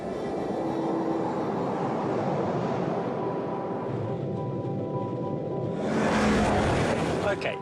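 Inside an ordinary car on the move, a continuous broadband road and engine rumble fills the cabin, with a brighter, louder rushing surge late on.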